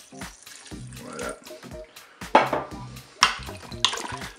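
Water poured into a Cookeo pot to cover goulash, in uneven splashy bursts among clinks and stirring, close by, with brief speech.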